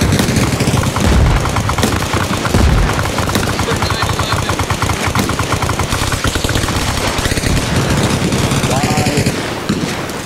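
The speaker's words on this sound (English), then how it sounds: "should I shoot this RPG at the church?" Heavy gunfire and explosive blasts in a zombie video game, including an RPG rocket launcher fired at a church, with dense continuous shooting throughout and voices mixed in.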